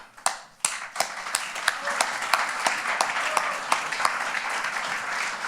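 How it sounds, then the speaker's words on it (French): Steady applause from a modest group at a dinner-conference, with sharper individual claps popping out at a fairly regular pace; moderately loud and sustained, without talk. "C'est moi qui vous applaudis."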